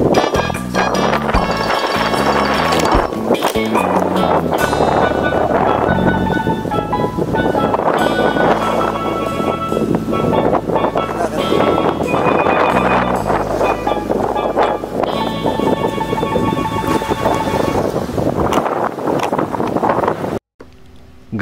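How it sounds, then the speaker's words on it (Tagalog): Strong, continuous wind roaring and buffeting the microphone on a hillside overlooking the beach in Calatagan, Batangas, for about twenty seconds, loud throughout, cutting off abruptly near the end. "sobrang lakas ng hangin dito"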